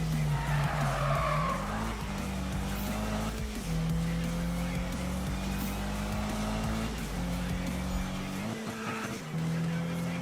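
A car in Need for Speed (2015) skids hard under handbrake, with a sustained engine roar, tire squeal and gear shifts rising and dropping in pitch through the run.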